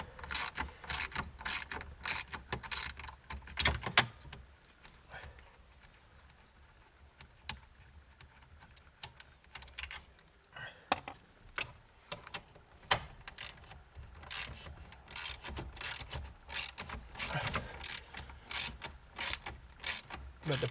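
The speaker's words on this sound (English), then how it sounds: "Same size socket wrench, but I'll just have the extension on there to make it a little bit easier" A socket wrench with an extension ratchets screws out of a Ford F-150 dashboard, making quick bursts of sharp clicking with short pauses between them, close up and fairly quiet.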